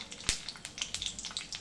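Mustard seeds, cumin and asafoetida sizzling in hot oil, a quick crackling patter of small pops and spits, close and fairly faint, with one sharper pop early on.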